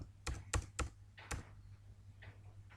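Keys on a computer keyboard clack in a few quiet, separate taps as a bank name is entered into Tally accounting software, close by and with no voices.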